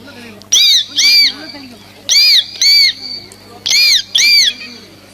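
A voice imitates a parrot with three pairs of shrill, screechy squawks, each pair separated by a short pause.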